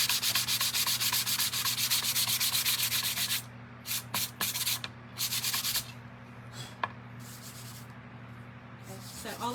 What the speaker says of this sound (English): So we're going to just sand this just a little bit.